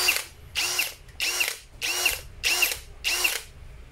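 A DCA ADJZ03-13 cordless drill rated at 120 N·m runs in six short, loud bursts with brief pauses between, its whirring motor carrying a buzzy ratcheting edge.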